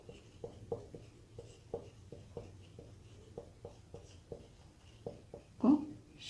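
Chalk or pen tapping and scratching out notes during a history lecture on the Gupta Empire, a series of short, close strokes in an irregular rhythm, with faint background hum and no talk.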